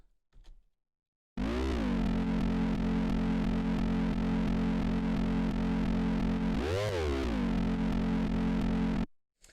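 A massive neurofunk synth bass patch with no processing plays as one sustained, gritty, buzzing note that holds steady, swoops up and back down once near the end, then cuts off abruptly, loud and alone.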